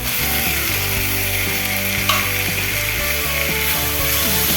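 Onions and tomatoes sauté in a pan for a restaurant-style curry, a steady loud sizzle under a strong, droning mechanical hum that runs throughout.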